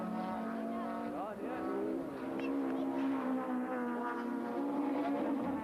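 Audi and Nissan Primera touring race cars battle at Aldo Scribante in the 1998 Bankfin Touring Cars, their engines droning loudly and continuously with rising and falling pitch as they chase through the corners, a commentator talking over them throughout.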